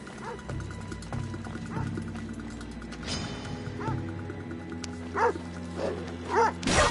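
Dogs bark and yelp in Assassin's Creed Odyssey amid game sounds and hoofbeats. Several sharp barks come in bursts near the end, over a steady background drone.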